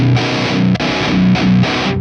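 A heavily distorted electric guitar plays chunky, sustained metal chords through a portable amp rig, loud and close, with short pauses between strums.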